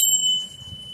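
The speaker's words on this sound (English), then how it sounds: "I'm gonna ring this bell." A small bell rung once, a clear bright ringing tone at the start that sustains and slowly fades, with faint low background murmur underneath.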